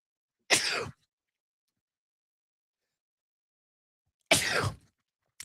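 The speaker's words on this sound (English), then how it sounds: "sneezing while recording live" Two sharp, explosive bursts a few seconds apart, sneezes close to the microphone with silence between them.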